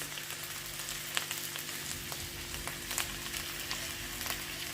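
Onions added to potatoes frying in a pan, a steady close sizzle of hot oil with faint occasional ticks and pops, no voices.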